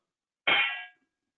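A released, uncompressed acoustic test panel rings like a bell when struck: one sharp metallic clang that decays smoothly over about half a second, then silence.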